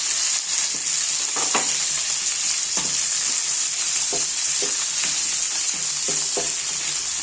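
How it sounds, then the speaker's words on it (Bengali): Mushrooms frying with lightly browned chopped garlic in a pan, a loud steady sizzle with repeated rhythmic spatula scrapes and knocks, up close, no speech. "মাশরুমগুলো ভালোভাবে ভেজে নিতে হবে।"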